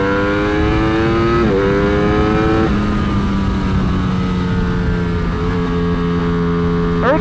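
Ducati Streetfighter V4S naked motorcycle accelerating hard on a track, a loud, close engine climbing steadily through the revs with quick upshifts at each step, alone with no talk.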